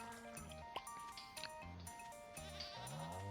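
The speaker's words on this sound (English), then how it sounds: "say hello to the goat down there?" Goat bleats from the Stardew Valley farming video game, a few wavering calls repeating over a steady game music background.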